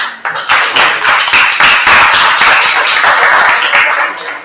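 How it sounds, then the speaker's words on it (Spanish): Loud, sustained applause from a crowd, dense clapping filling the whole stretch before tapering slightly at the end. "Vamos a brindarle un fuerte aplauso."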